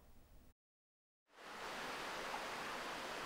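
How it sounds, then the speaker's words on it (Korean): A waterfall on Juwangsan mountain roars as a steady, broad rush of falling water, loud and close, starting after a brief silent cut and continuing without voices. "시원한 폭포 소리가 주황산에 울려 퍼집니다."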